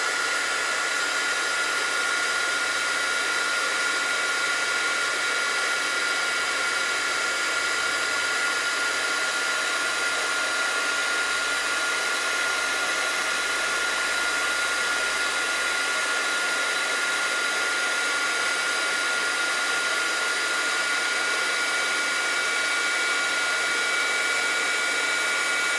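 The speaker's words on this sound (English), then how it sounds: "use something to hold your piece down when you're using the heat tool so it doesn't blow away" Embossing heat tool blowing hot air in a continuous, steady, loud whoosh that holds unchanged for the whole stretch with no pauses or speech.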